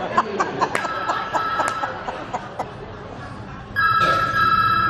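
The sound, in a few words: telephone ringing during a stage show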